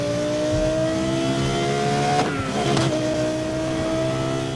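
A car's engine in a racing video game holds a steady high drone, then revs sharply up and down in a quick burst before settling back to a sustained loud hum.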